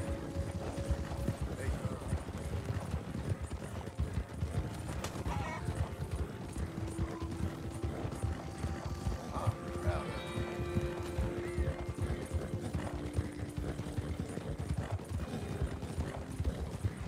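Horse hooves clip-clop steadily through hard riding in the Red Dead Redemption 2 video game, with occasional whinnies, game music and a voice over the top.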